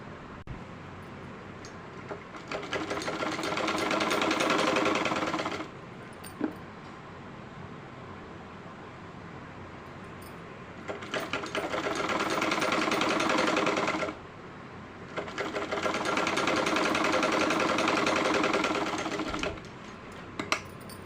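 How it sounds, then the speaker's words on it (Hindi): An electric sewing machine stitching folded fabric strips for a small Kanha Ji idol dress, running in three steady buzzing bursts of a few seconds each with short quiet pauses between, close and fairly soft. "फोल्ड करके इस पे हम इस तरह से सिलाई लगा देंगे।"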